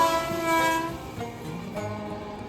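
A train at Whitefield railway station sounds its horn in a long, loud, steady blast with harmonic tones, over the rumble of rail cars close by.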